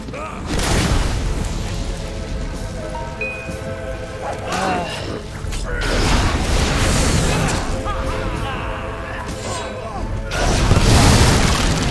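Explosions and a burning house in the video game Fable III, with heavy booming blasts and rumbling fire noise swelling and fading in waves, loud and close, over a soundtrack.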